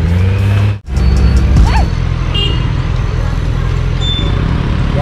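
A loud Kawasaki Z900 motorcycle exhaust roars and revs close by amid traffic noise, with a brief cutout near the start and a horn-like tone later.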